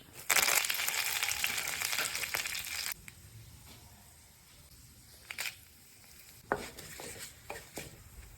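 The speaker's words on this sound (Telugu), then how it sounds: "ఆయిల్ వేడయ్యాక 1 స్పూన్ తాలింపు గింజలు మరియు కరివేపాకు వేయాలి." Loud crackling sizzle of tempering seeds and curry leaves dropped into hot oil, easing after a few seconds into a quieter fry with occasional sharp pops and clinks.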